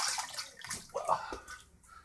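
Water splashing at a sink during face washing, a series of short sloshing bursts close by with brief pauses between them, no talking.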